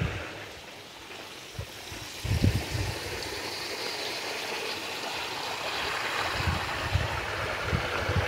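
Well water, dammed and diverted into a rice paddy field during a dry spell, flows in a steady broad rush with occasional low splashes and bumps, outdoors and moderately loud throughout.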